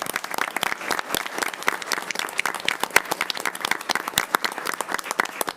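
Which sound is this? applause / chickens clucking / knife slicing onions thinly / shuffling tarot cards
applause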